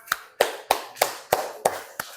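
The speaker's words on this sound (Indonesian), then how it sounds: "tepuk tangan" Children in a classroom clap hands together in unison, seven sharp, evenly spaced claps in a steady rhythm, close and loud with no talking.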